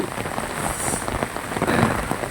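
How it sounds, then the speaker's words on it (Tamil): Heavy rain from Cyclone Fengal pours down in Chennai in a dense, continuous patter, drops hitting surfaces nearby without a break. "சென்னையில் மழை காற்று ஆரம்பிச்சிருச்சு புயல் ஆரம்பிச்சிருச்சு"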